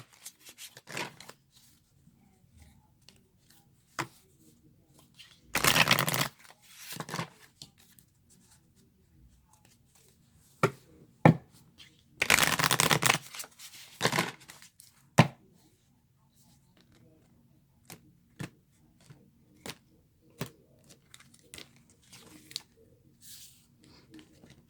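Soft papery riffles and flutters of tarot cards being shuffled come in two short bursts, followed by scattered light taps and clicks of cards being handled, with no talking.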